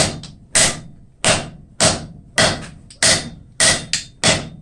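Hammer blows land on aluminum being forged, a soft metal that work hardens under repeated strikes. Seven loud, sharp, close impacts fall at an even pace, each ringing briefly before the next, with no voices.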